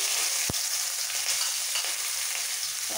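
Garlic fries in hot oil for a dal tempering, a loud, close, continuous sizzling hiss with a single sharp knock early on.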